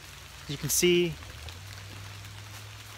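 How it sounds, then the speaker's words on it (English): Rain falling on wet woods on a November day, a soft steady patter that goes on throughout; someone talks briefly over it near the start. "It's been raining all morning, all day."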